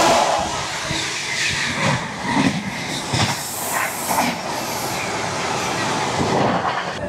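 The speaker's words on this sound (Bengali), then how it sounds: "চলে আসছে ট্রেন নম্বর 120-17 নতুন দিল্লি থেকে দেরাদুন শতাব্দী এক্সপ্রেস।" The New Delhi–Dehradun Shatabdi Express rolls in close by, its steady loud rumble broken by repeated wheel clatter and metallic clanks from start to finish, with no speech over it.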